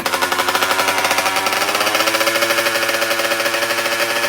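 A drag bike motorcycle engine revs hard during a test drive, giving a loud, continuous buzzing roar with rapid pulsing that climbs steadily in pitch over a few seconds, with no voices.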